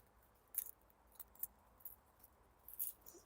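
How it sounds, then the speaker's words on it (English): Scissors snip the roots of hardneck garlic bulbs, a few faint, quick crisp cuts close by in an otherwise quiet setting. "Here we need to trim the roots."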